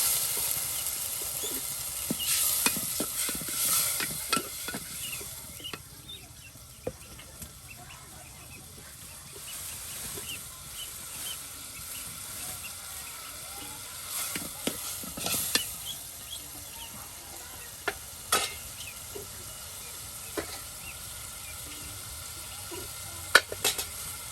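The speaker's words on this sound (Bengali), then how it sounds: "মাছ তার সাথে মশলা সব একসাথে দিয়ে দেওয়া হলো একদম মাছগুলোকে আওলানো হবে সেই লাউয়ের সাথে" Fish with spices and bottle gourd is stirred in a pan over a village kitchen fire, giving a soft steady sizzle with scattered spoon clinks and scrapes. Faint rural background sounds and quiet occasional voices sit underneath.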